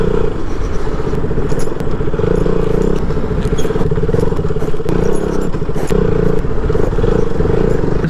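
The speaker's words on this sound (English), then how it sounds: "This might be the one last long ride on the Duke 200 as well" A KTM Duke 200 motorcycle on the road, engine humming loud and steady at cruising speed with wind rumble and occasional clattering knocks throughout.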